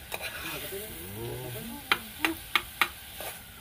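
Goat meat sautéed in a pan is stirred with a utensil, soft sizzling under a series of sharp scraping clacks toward the end, close and fairly quiet, with faint voices nearby.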